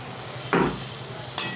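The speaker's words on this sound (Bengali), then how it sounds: "এবারে মশলাটা ভালো করে কষিয়ে নেব।" Spice paste with tomato and green chilli-poppy seed paste sizzles steadily in hot oil, with two short louder bursts of stirring scrapes breaking through the constant frying hiss.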